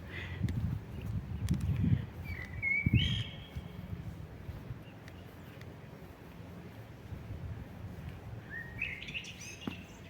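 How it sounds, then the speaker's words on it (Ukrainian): Birds chirp and call outdoors in a garden among juniper shrubs at a moderate distance, with brief tweets over a steady wind rumble and no talking. "Чуєте, як вони співають ці птахи?"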